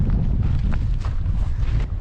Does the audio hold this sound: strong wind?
yes